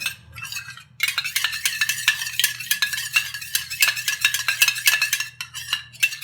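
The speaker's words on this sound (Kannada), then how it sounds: "ಈಗ ಅದನ್ನು ಕಂಪ್ಲೀಟಾಗಿ ಮಿಕ್ಸ್ ಮಾಡ್ತಾ ಇದ್ದೀನಿ" A spoon stirs a homemade cream mixture in a bowl, making steady, rapid scraping and clinking strokes that run continuously, close and fairly loud, with no talking.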